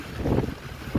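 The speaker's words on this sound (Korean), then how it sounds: "바람 소리, 비바람 장난 아닙니다." Typhoon wind and rain buffet the microphone at a storm-hit site in Muan, a low roaring, gusting rumble with no talk.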